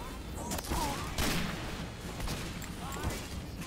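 Gunfire from a Team Fortress 2 match crackles in several bursts amid continuous game noise, with shots spaced irregularly at mid distance and sound effects under everything, no clear talk.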